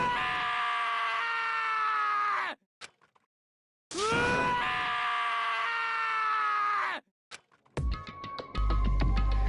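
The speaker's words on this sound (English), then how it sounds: "I want you to hear this poor fucker's scream." Anguished screaming from a character in Danganronpa: Trigger Happy Havoc, two long loud wailing cries separated by a short silence, then a different abrupt game sound at the end.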